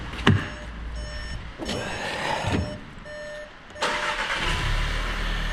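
A Seat Leon FR with a reported squeaking belt cranks and starts, a brief starter whir, a couple of chimes, then the engine catching into a steady idle, close by.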